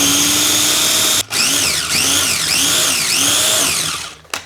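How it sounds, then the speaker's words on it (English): A small food processor whizzes roasted capsicum, anchovies, parsley and garlic, its motor whining steadily with repeated rising-and-falling pitch sweeps as the blades churn, close and loud, stopping abruptly after about three seconds. "we just whiz that up in our little food processor"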